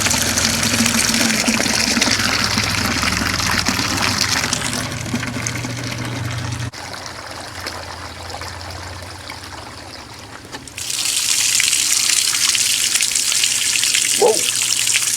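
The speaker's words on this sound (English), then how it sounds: "Look at all that dirty water coming out of it." Dirty water drains from a washing machine in a steady rushing gush, loud and close, then eases into a quieter trickle before surging strongly again.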